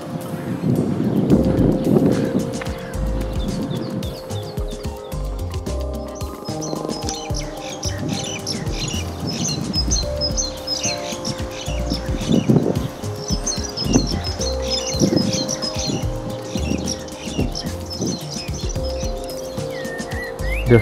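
Birds chirp and tweet among flowering trees in a park, a steady scatter of high calls running through most of the stretch over a busy, rumbling background of knocks and thumps.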